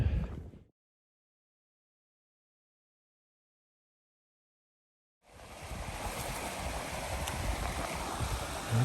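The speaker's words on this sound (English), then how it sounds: "Okay, here's a water crossing." A stream rushes at a water crossing on the Appalachian Trail, a steady broadband wash of flowing water that starts after a few seconds of near silence and then holds at a moderate level.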